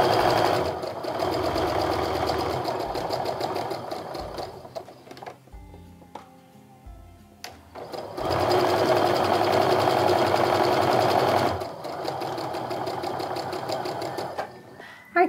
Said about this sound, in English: now I'm gonna sew down the other side of that drawn line